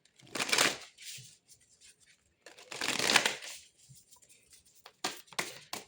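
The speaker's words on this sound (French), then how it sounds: "On va aller tirer 3 cartes avec ce jeu." A deck of oracle cards being shuffled in several brisk bursts, close and crisp, with short pauses between the riffles and no talking.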